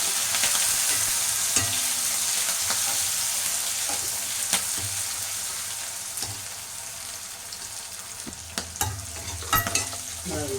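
Curry leaves and onion fry in a pan, giving a steady, close sizzle throughout with occasional stirring clicks and scrapes, louder bursts near the end.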